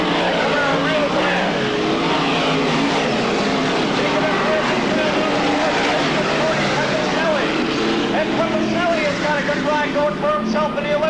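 Race cars lap an oval short track at Fonda in 1995, engines roaring continuously across the full length, loud and fairly near, while a race announcer talks throughout.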